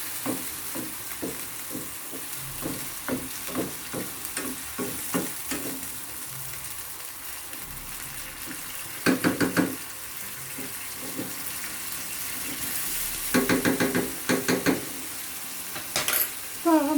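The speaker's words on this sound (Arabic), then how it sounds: "غادي نضيفها ونحركو كتشحر لينا الفلفله ديالنا مع الدجاج ومع البصله." Peppers, chicken and onion stirred in a frying pan, with a spoon scraping in a steady rhythm over a soft sizzle, then bursts of running tap water partway through; no talking.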